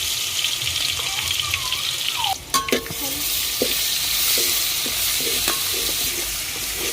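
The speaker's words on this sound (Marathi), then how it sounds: "तेल गरम झालं की हे आल्या लसणाची पेस्ट आपण टाकून घेणार आहे" Ginger garlic paste, crushed in a mortar, sizzles steadily in hot oil in a pot over a wood-fired stove, with a few sharp clinks of a spoon stirring near the middle.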